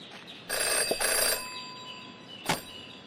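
A telephone in a detective adventure video game rings in a short electronic burst, then falls quiet, followed by a brief sharp click, with no speech.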